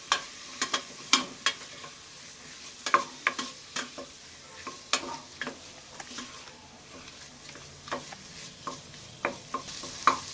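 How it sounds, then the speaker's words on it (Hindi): Tomatoes frying over high heat in a pan for pav bhaji, stirred with a spatula that gives sharp, irregular scrapes and taps over a soft, steady sizzle, close by and with no talking. "और अब मैं डाल दूँगी इसमें टमाटर, उसे भी अब मैं गैस की आंच बढ़ा रही हूँ और सभी चीज़ों को फटाफट हम मिक्स करेंगे।"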